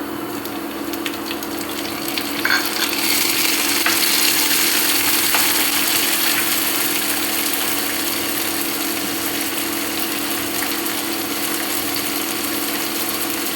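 Tomatoes tipped into a hot pan for restaurant-style paneer bhurji give a steady, broadband frying sizzle that swells slightly after the drop and holds evenly, close and moderately loud, with no voices.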